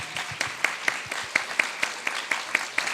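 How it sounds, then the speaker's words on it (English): Applause from an opera audience at a mayor's gallery event, a thin, moderately distant patter of clapping with a few sharper individual claps standing out at an uneven rhythm. "Let us give you a round of applause."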